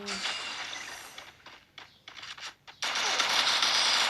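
Bursts of automatic gunfire in the mobile battle game Free Fire, rapid crackling volleys that cut in and out, with a louder sustained stretch near the end.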